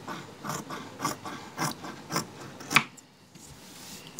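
Old legging fabric being cut with scissors, giving a series of soft, rhythmic snipping and rubbing strokes, close and fairly quiet, with a sharper click near the end and no talk.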